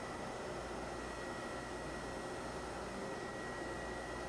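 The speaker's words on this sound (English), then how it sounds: "That is the sound of the spindle." A grinding spindle runs on an Okamoto ACC 618 DX3 surface grinder, giving a steady, even whirring hum with a faint tonal whine, loud and unbroken throughout with no talk.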